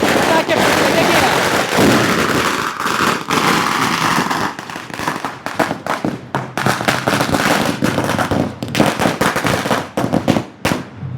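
Rapid strings of firecrackers crackle and pop loudly and continuously in Bhopal, Madhya Pradesh, celebrating an election win, with dense bursts giving way to scattered sharp bangs, and voices faintly underneath.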